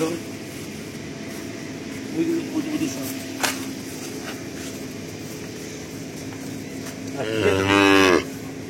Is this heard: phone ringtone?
no